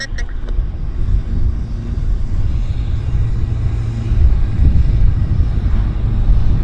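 At Vancouver Airport, a U.S. Navy aircraft produces a low, steady engine rumble that swells slightly, mixed with wind buffeting the microphone, while a person talks nearby.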